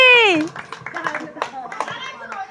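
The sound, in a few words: children clapping for a prize winner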